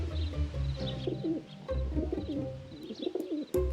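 Pigeons coo in The Secrets of Da Vinci video game, with soft, repeated throaty calls rolling over one another at close range against a quiet background.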